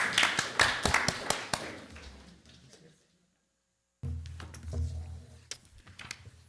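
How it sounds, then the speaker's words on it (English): Audience applause at a school board meeting, a short scattered burst of clapping that fades out, then silence, followed by room noise and a voice. "Round of applause, please."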